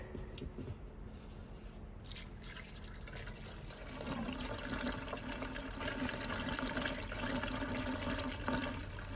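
Screen wash fluid is poured into the washer reservoir of a 2016 Mini Countryman 1.6 petrol, a steady liquid trickle that thickens into a fuller, continuous gurgling pour after a few seconds, nearby and without talk.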